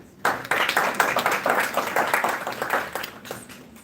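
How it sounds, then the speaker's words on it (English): An audience claps for participants at a youth Seerah conference: a burst of many hands clapping at once, close and lively, then gradually thinning out. "A big round of applause to all of them."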